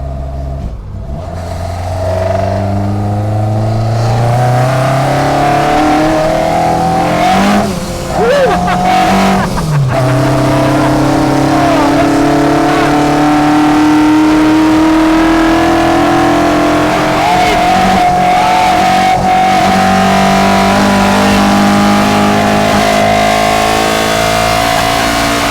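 Vauxhall C20XE engine in a Ford Escort with no sound deadening, idling loud and rough up close, with blips of the throttle that make the pitch rise and fall; a voice talks over it in places.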